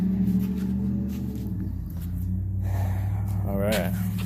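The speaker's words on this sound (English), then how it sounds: "I want to apologize in advance with all the traffic noise," Busy street traffic rumbles as a constant low drone with passing vehicle swells, heard beneath someone talking close by.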